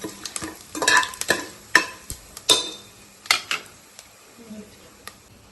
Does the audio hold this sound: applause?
no